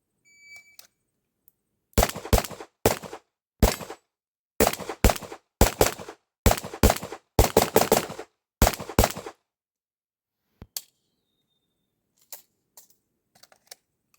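Handgun shots fired during IPSC production division training, loud sharp cracks in rapid bursts of two to four shots, with a few fainter isolated pops and clicks near the end.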